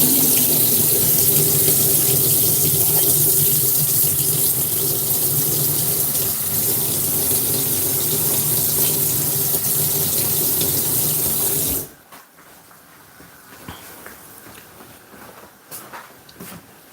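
A kitchen tap runs steadily as a flour-dusted cutting board is rinsed, a loud, even gush for about twelve seconds before the water shuts off, leaving faint clinks and handling sounds.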